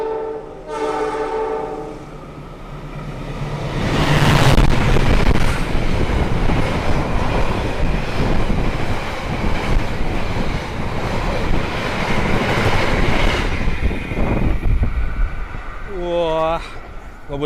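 An Argo express train races past at speed, its roar building into a long, loud rumble with clattering wheels and a horn blast at the start and end, with voices in the background.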